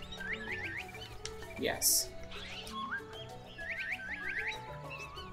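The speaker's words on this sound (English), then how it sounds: "Something's whistling back at me, but none of them seem to be." Creatures in the video game Beast of Maravilla Island answer with rising whistled chirps in quick repeated runs of four or five notes, moderate and slightly distant, while a person talks briefly in between.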